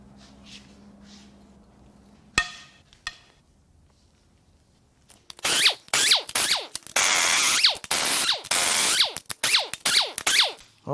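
Power tool removing cylinder head bolts on a GM 6.2L LT1/L86 Gen5 V8 from a 2015 Escalade, loud repeated bursts of whirring and rattling impact, each a second or two long, following a few quieter clinks.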